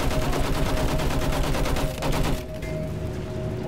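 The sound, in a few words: gunfire in Battlefield 1 video game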